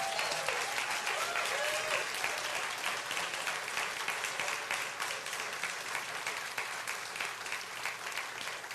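Sustained applause from a church congregation at a first-anniversary service, dense steady clapping filling the room throughout, with faint voices mixed in.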